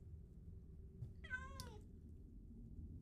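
A single indoor cat gives one clear, rising-then-falling meow at close range against a quiet room hum.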